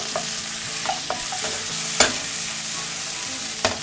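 Pork and green onion stir-frying in a hot pan for ganjajang black bean sauce: a steady sizzle runs throughout, broken by several scraping stirs and sharp spatula clacks against the pan, close and moderately loud.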